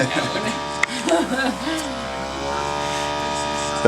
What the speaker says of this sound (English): Here comes a paint sprayer.